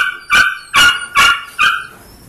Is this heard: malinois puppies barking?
yes